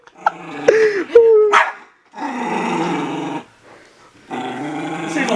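A dog growls low and then barks in loud bursts close by, with pauses between separate rough volleys.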